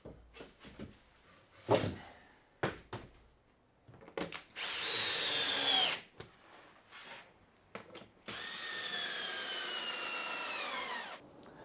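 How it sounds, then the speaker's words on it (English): A power drill drives screws into floor boards laid along a joist line in a workshop: scattered knocks and handling sounds, then two sustained whirring bursts of the drill, each running a couple of seconds, close and loud. "get some screws in along this line"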